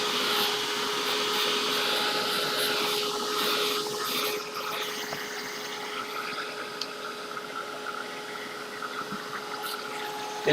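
A heat tool roars steadily to dry base-coated painted wings, a loud airy blast that eases slightly partway through and keeps running without talk.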